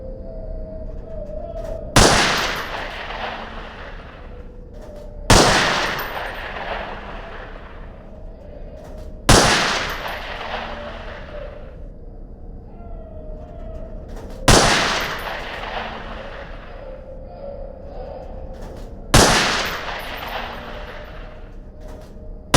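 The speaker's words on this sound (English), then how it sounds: "Let's get to the submachine guns now. Pick up that MP5." MP5 submachine gun fired in a video game during SWAT training, five sharp loud bursts spaced a few seconds apart, each with a decaying echo, over a quiet background hum.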